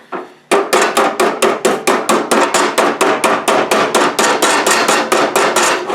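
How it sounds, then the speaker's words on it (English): A hammer strikes repeatedly in a fast, steady rhythm, bending over metal on a birdhouse front, about twenty sharp ringing blows, loud and close, with no speech. "we're going to take our hammer here"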